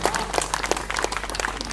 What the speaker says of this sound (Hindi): बढ़िया ताली बजाना ढंग से